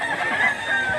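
A gamecock rooster, a stag with blue legs, crows at a cockfighting event in Mantalungon, Cebu. The call is a single sustained, fairly loud crow with steady, noisy background around it.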